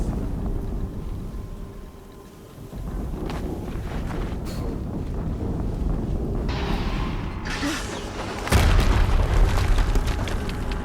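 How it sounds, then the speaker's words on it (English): A deep boom rolls through gameplay of the video game Horizon Zero Dawn, with sustained rumbling low-end noise and a sharp, louder burst near the end, no talk over it. "Another explosion."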